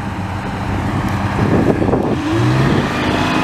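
A vintage Sicard snowblower powered by a loud Detroit Diesel engine drives by outdoors, its low rumble swelling as it approaches amid wind noise on the microphone.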